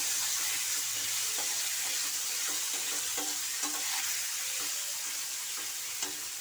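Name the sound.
chopped tomatoes frying and stirred in a pan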